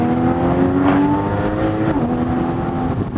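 Porsche Boxster GTS mid-engine sports car accelerating on the road, a steady loud engine drone with rising tone throughout, heard from inside the car.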